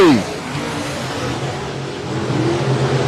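Sprint cars in the Bandit Outlaw Sprint Series race past on the Heart O' Texas Speedway dirt oval, engines roaring and sweeping by in a loud pass that fades and then swells again, with a voice talking over the engines.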